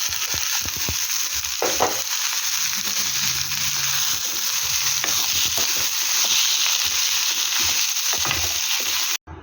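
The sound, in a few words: onions frying in a pan with cooked horse gram added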